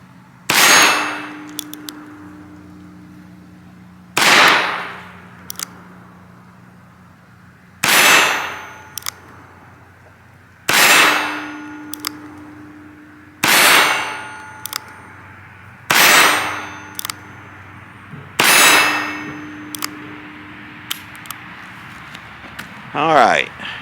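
Charter Arms .22 revolver shots ringing off a steel target at an outdoor range: about eight sharp cracks, each followed by a bright metallic clang, spaced a few seconds apart, close and loud, with a faint voice between shots.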